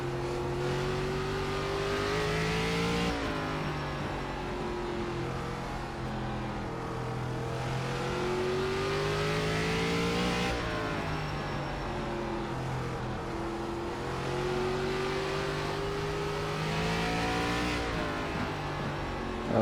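A race car engine in iRacing, the new ARCA car running in fourth gear, drones steadily and loud throughout, its pitch climbing and dropping as it revs through corners, with no talk over it.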